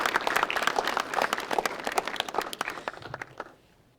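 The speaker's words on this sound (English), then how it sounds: "So big round of applause to the Ecotarium." Audience applause at a school science fair in a museum hall, a burst of many clapping hands that thins and fades out near the end.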